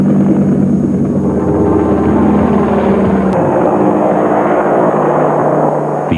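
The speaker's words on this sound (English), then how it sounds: "the Medevac Bell 47, Army designation H-13, with its distinctive rotor noise" A Bell 47 medevac helicopter, Army H-13, with its distinctive rotor noise: a loud, close, continuous chopping drone that holds steady, shifting slightly in pitch partway through.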